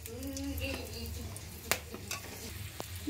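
Whole garam masala spices frying in hot oil in a wok (kadai), a steady sizzle with light stirring, a sharp clatter near the middle and a few soft scrapes toward the end; a voice murmurs faintly at the start.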